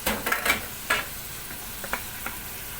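Ground cumin, coriander, turmeric, cinnamon, pepper and mutton masala fry in a pan with soft sizzling. Several quick scraping stirs are heard, strongest at the start and then spaced out.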